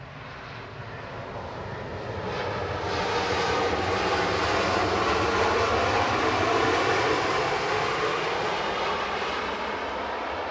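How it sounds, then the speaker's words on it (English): An EasyJet Airbus A321neo touching down at Manchester Airport after arriving from Lisbon, a broad steady engine roar that swells after a couple of seconds and holds loud for the rest, with no talk. "EasyJet 6727 from Lisbon, OEIUA, just touching down, A321neo."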